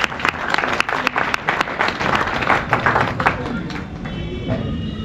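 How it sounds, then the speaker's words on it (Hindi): Children and an audience clap loudly together at a children's science congress for National Children's Day, a dense steady burst of applause lasting several seconds with crowd murmur underneath. "एक बार बाल वैज्ञानिकों की जोरदार ताली हो"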